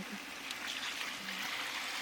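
Water in which bone marrow was boiled pours and trickles steadily into a pot, a soft continuous splashing stream with no voices, fairly quiet and close.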